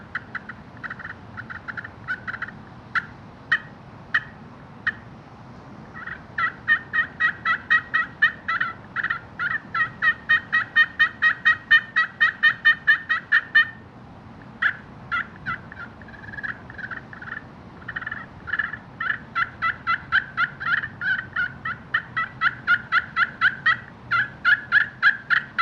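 Turkeys gobbling in repeated rapid bursts, a long run of rattling calls with brief pauses between, moderately close and clear with a faint steady background hum and no talking.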